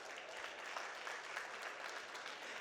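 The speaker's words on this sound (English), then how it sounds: "Please give him a big round of applause." A healthcare conference audience claps briefly for a speaker, a faint, even patter of applause heard from a distance.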